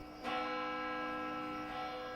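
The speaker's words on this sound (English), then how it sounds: "this one also has church bells ringing" A church bell strikes once and its tone rings on, humming and slowly fading, heard from some distance.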